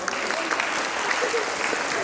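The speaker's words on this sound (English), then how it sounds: "Can we have a big round of applause?" Children and audience at an art event give a big round of applause, a thick continuous clapping from a crowd with voices mixed underneath.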